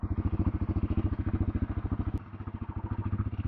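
A Royal Enfield Himalayan 450 motorcycle engine idles nearby with a steady, rapid thumping pulse. Its rhythm briefly dips and shifts midway before settling back into the even beat.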